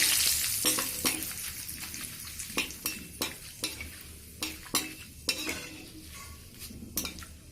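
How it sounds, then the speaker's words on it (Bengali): Soft, steady sizzling of curry leaves frying in oil over medium gas, broken by sharp intermittent scraping clicks of a utensil stirring in a pan, close by. "এবার আমি এখানে কারি পাতাটা একটু ভেজে নেব।"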